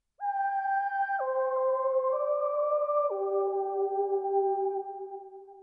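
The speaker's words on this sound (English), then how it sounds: "There's also a whiny synth sound" A whiny, sustained synth tone steps down in pitch through a few long held notes, loud and alone, fading slightly at the end.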